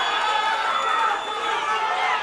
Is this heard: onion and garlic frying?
no